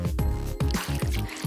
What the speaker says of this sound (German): Ich tauche die Haare der Puppe ins Wasser.